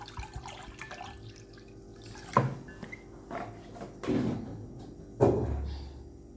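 Water runs intermittently from a tap while aloe vera is rinsed in a kitchen, with faint splashes and a few louder knocks of handling at moderate distance, no talking.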